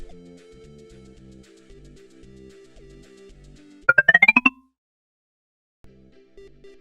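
A phone rings once in a short, bright burst of rising electronic tones, loud over soft background music that then drops into a brief silence.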